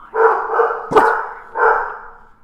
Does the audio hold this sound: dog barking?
yes